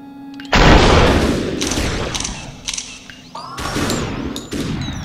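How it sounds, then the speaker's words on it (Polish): Gunfire in the video game Superhot: several sharp, loud broadband bursts crack out in quick succession, with ringing decays trailing between the shots. "Słuchaj, tylko te wystrzały."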